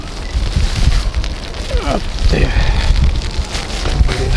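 Strong wind roars and buffets against the microphone during a rainy fishing outing with a spinning rod, loud and close with rustling gusts, while a voice briefly speaks over it.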